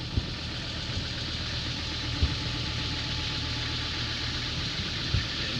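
A boat engine that has had extensive engine work runs at a steady idle, a low continuous rumble with faint knocking pulses and a few soft bumps.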